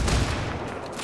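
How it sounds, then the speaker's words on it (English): Gunfire in Ghost Recon Wildlands during a military base assault, with a short burst of rapid, overlapping shots heard up close and nothing else over it. "I am shooting at them as they come around the corner from my little perch."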